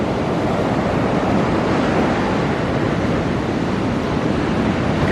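Ocean waves wash onto the beach at sunrise at Myrtle Beach, heard as a steady, broad rushing surf mixed with wind buffeting the microphone.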